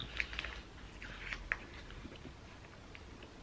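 Soft, close chewing of a chicken doner kebab burger in a soft bun, with faint moist bites and small crunchy clicks over a low background, no talking.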